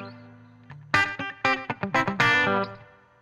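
Short chicken pickin' electric guitar lick with a hammer-on, a few snappy plucked notes landing on the root, close and clear with a light effect tail, no voice.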